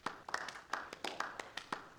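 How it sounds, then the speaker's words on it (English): A crowd applauds in the video game Beacon Pines, a thin, sparse scatter of claps and taps, fairly quiet and irregular, with no voices over it. "So I thought we could begin with a round of applause befitting such a great man."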